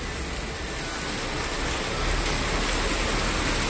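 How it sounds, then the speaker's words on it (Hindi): Heavy rain pours down in a steady, dense, loud hiss that swells slightly partway through, with no voices. "ओहो भाई बारिश तेज हो गई काफी"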